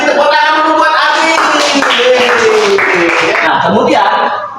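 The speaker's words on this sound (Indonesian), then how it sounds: "Tepuk tangan dulu buat Abi." A group claps for a child in a classroom-style setting, a dense burst of hand claps lasting several seconds, mixed with children's cheering voices before fading at the end.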